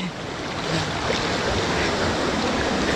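Strong river current rushing past, a steady loud broadband roar of churning water close to the microphone with some wind buffeting, continuous and unbroken.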